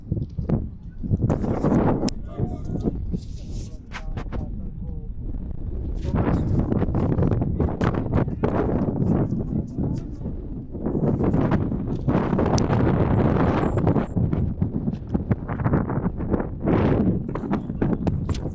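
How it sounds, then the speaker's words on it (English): Steady wind buffets the microphone with low, rumbling gusts throughout, loud and continuous, with faint background noise. "Very windy night here"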